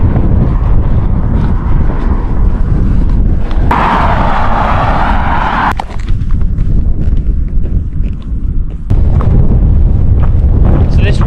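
Strong wind buffets the microphone out on the open North York Moors, a loud, constant roaring rumble that swells and eases over about eleven seconds and drowns out other sound.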